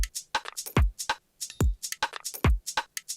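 A punchy electronic future garage drum pattern with deep booming kicks and crisp hi-hat and snare hits in a quick, syncopated rhythm.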